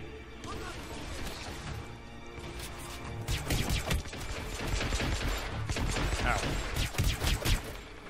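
Gunfire in Hitman: Absolution, with bursts of heavy shots and crashing impacts that grow denser toward the end, set over a continuous game background with faint voices.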